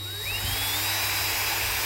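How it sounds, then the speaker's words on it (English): A high-pitched power drill with a probably dull bit whines continuously drilling holes in a metal lip, its tone sliding upward as it bites, over a low steady hum. "I'm going to get me a couple of holes drilled here in this lip."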